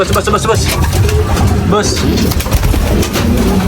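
Racing pigeons are released, cooing and fluttering close by amid steady background noise, with traffic rumbling faintly and brief voices in the mix.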